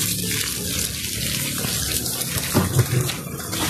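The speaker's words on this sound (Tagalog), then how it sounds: "Hinaan nyo lang na mag-open nyo lang ang gripo. Ganito, mahina na tulo." A water tap runs gently into a koi breeding tank, making a steady, close splashing trickle with no voices over it.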